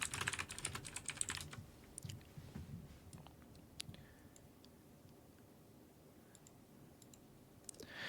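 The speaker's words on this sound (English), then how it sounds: "I'll just type this." Typing on a computer keyboard, a dense flurry of clicky keystrokes at the start that thins into scattered, quieter taps, close by and without any talk.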